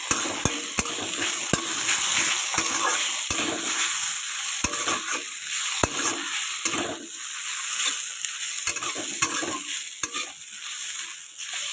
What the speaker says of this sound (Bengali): আমি এর মধ্যে এবার ছেড়ে দেব আলুগুলো